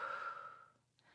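A woman demonstrates a slow, deep breath for labour, a single long airy exhale heard close and soft, fading out with a faint click near the end.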